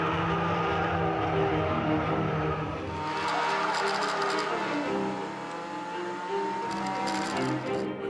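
Race-prepped Volkswagen Polo cars with roll cages, race suspension and race exhausts lapping a circuit, giving a steady, loud engine drone with shifting pitch that runs continuously throughout.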